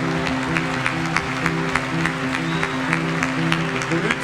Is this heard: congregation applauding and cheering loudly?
yes